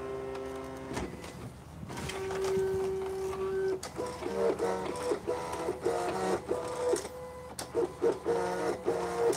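A Silhouette cutting machine cuts out a mirrored word, starting with a steady motor whine, then a series of rhythmic buzzing and whirring carriage movements with brief pauses, close and moderately loud.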